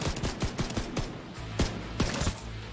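Gunshots in the video game The Division 2: a rapid series of sharp, loud rifle cracks, about a dozen in quick uneven succession over a low game rumble.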